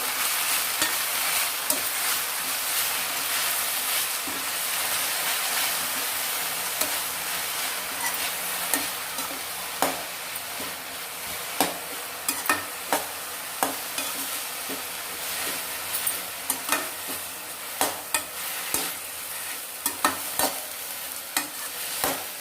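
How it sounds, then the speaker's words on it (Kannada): Mint leaves frying in oil for a spicy pudina chutney, a steady hissing sizzle with frequent crisp scrapes of a spatula stirring that grow more regular toward the end, close and without speech. "ಪುದೀನನ ಚೆನ್ನಾಗಿ ಹುರ್ಕೋಬೇಕು"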